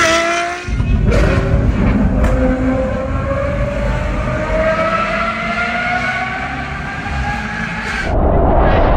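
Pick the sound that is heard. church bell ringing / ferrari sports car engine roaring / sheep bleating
ferrari sports car engine roaring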